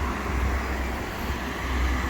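A Wright-bodied electric bus at the bus stands in York, heard as a steady low rumble of traffic and idling vehicles close by, without clear peaks.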